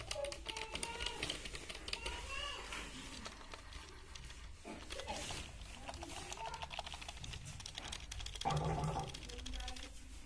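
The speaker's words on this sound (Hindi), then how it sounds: "ये टाइपिंग हो रहा है।" Typing on a Dell wireless Bluetooth keyboard produces steady, close clicking keystrokes in irregular bursts, while someone talks over most of it.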